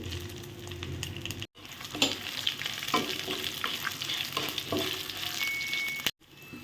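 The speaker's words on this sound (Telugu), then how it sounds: "ఆయిల్ వేడెక్కింది అందులో ధనియాలు వెల్లుల్లి ఎండుమిర్చి" Coriander seeds, garlic and dried red chilies sizzle and crackle in hot oil, close and continuous, with scattered stirring clinks and two brief dropouts in the sound.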